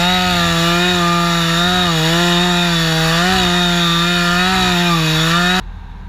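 A chainsaw cuts through a lightning-struck white pine, its engine holding a loud, steady, close whine for about five and a half seconds before it suddenly cuts off.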